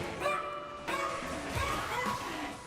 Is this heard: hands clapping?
no